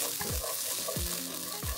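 Onions sizzling in a dry pan with no oil or butter, a continuous bright hiss broken by three scraping stirs, close and loud with no voices.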